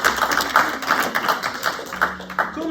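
Wedding guests applaud in a room, a thin scattering of claps with uneven rhythm, close and moderately loud with a faint tone humming beneath.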